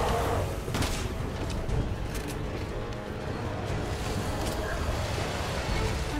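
Scattered gunfire in the Resident Evil 6 video game, with bursts of shots over a loud, steady background rumble of wind and engine noise that persists throughout.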